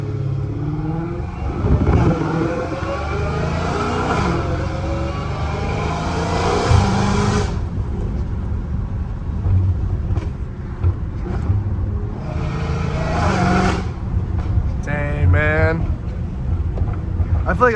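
A Dodge Challenger Hellcat Redeye engine revs and roars aggressively in repeated bursts in Los Angeles, with wind buffeting and some talking in between.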